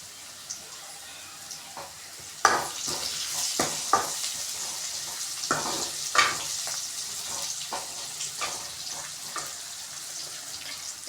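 Onions sautéing in a pan for a Tamil fish curry (meen kulambu), a steady close sizzle with repeated sharp scrapes and stirs of a spoon across the pan throughout.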